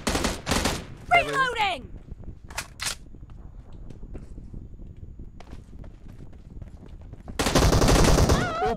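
Bursts of rapid automatic gunfire in PUBG Mobile, loud and close at the start and again in a dense final burst, with sparse shots and game noise between and a voice briefly heard.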